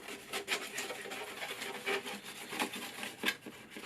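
Sandpaper rubs over a clear lexan body shell for a Sworkz S35-4E RC car, producing close, steady scratchy strokes in a loose back-and-forth rhythm with no talking.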